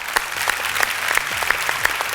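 Crowd applause at a temple festival stage show in Kerala: steady, loud clapping with a few sharper individual claps standing out.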